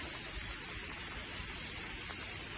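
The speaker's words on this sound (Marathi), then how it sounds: "आणि इथे पाईपलाईन फुटून पाणी व्हायला चाललं आहे" A burst pipeline shoots out water in a steady, loud hissing spray, a constant wash of noise with faint low rumbling beneath it and no talk.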